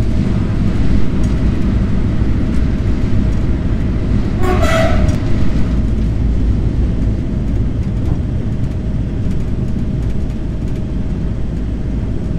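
BB 22200 electric locomotive heard from the cab at about 120 km/h on the Nantes–Rennes line, passing through a short 178 m rail tunnel, with a steady loud rolling roar throughout and a brief rising whine midway.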